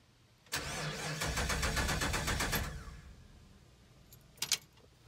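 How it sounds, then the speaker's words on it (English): Starter cranks a 1955 Plymouth Belvedere with a modern fuel-injected engine for about two seconds in a rapid, loud whirring rhythm, but the engine does not catch, then two brief clicks follow. "Okay, so it appears it won't start, but it does have a fuel-injected motor"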